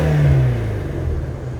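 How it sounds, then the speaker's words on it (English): A 2019 Ford Mustang Shelby GT350 with the 5.2-liter Voodoo V8 gets a quick rev with the door open, a loud deep burst that peaks early, then settles back to a rumbling idle, close by and with no voices. "With the door open, we'll give it some quick revs."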